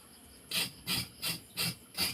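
Skin scrubbed firmly by hand, heard as five evenly spaced rough rubbing strokes, close and clear against a quiet background with no talk.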